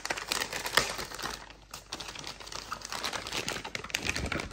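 Crinkly rustling and crackling of packaging as a Tesla automatic door handle is unwrapped by hand, close and continuous with a brief quieter gap midway.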